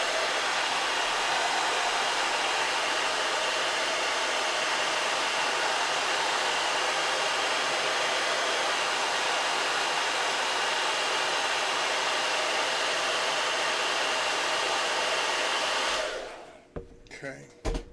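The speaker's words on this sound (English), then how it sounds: "So now we're going to hit this with the hairdryer." A hair dryer blows steadily on fresh paint, a loud, even broadband rush that runs unbroken for about sixteen seconds before cutting off, followed by a few faint handling clicks.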